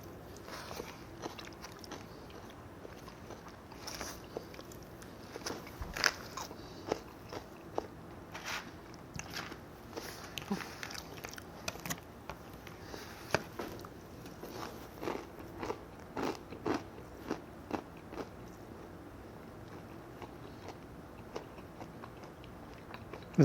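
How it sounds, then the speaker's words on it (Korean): Someone eats food during a mukbang, with frequent close, irregular bites, crunches and chewing clicks, fairly quiet and without talking. "그럼 뭔가 제가 먹는 소리에 제가 거슬릴 것 같아서 그렇게 못 먹고 있거든요"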